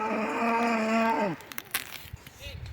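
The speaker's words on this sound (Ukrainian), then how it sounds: "А ось і корова йде наша." A cow lets out one long, low moo, loud and close, then it stops and faint outdoor rustling and scuffs follow.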